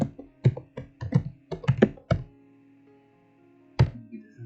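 Keystrokes on a computer keyboard come in a quick burst of close, distinct taps, then a pause and one more lone tap; the clicks stand alone with nothing else around them.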